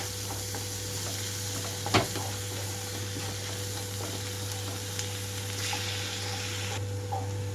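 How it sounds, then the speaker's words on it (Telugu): Masala paste for egg pepper curry frying over a low flame, a steady soft sizzle with occasional stirring scrapes, one sharper knock near the start, constant and moderately close with no talking. "లో ఫ్లేమ్లో నుంచి 2-3 నిమిషాల పాటు వేయించుకోవాలి. పేస్ట్ అంతా కూడా పచ్చివాసన పోయే వరకు."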